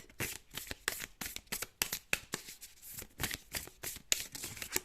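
Tarot cards shuffled by hand in a steady run of crisp riffling bursts, close and fairly quiet, with no voices.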